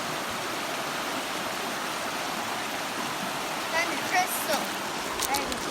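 Fast-flowing water of the Hoh River on a rainforest trail, a steady broadband rush that stays constant from start to finish, with brief faint voices and light sounds near the end.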